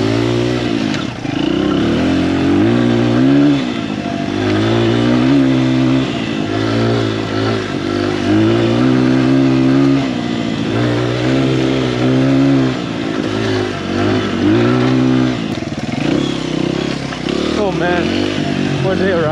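A Honda XR100 enduro motorcycle engine revs hard on a dirt hill climb, loud and close, with a steady pulsing drone that surges up and down throughout.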